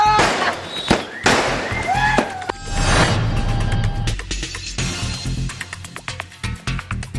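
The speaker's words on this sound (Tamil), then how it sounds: "மாணவியின் வெற்றியை ஊர் மக்கள் அனைவரும் பட்டாசு வெடித்து மகிழ்ச்சியுடன் கொண்டாடினர்." Firecrackers burst at a village celebration, with loud sharp cracks and pops, some whistling streaks, then a dense, rapid run of bangs that thins out toward the end.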